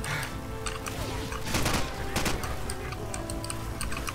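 Several sharp gunshot cracks burst out amid the busy soundscape of Call of Duty 4: Modern Warfare, with a cluster of rapid shots in the middle and scattered ticks around.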